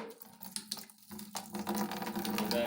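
Sediment-laden water poured out from a water heater drain, a close splashing, gurgling pour that starts uneven and grows into a steady, fuller stream.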